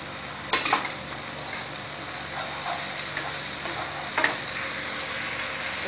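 Tomato paste fries in a pan with a dense, even hiss of sizzling and a couple of sharper spatters or stirring knocks, close and fairly loud, with no talking.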